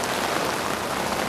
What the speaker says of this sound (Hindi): बारिश तगड़ी हो रही है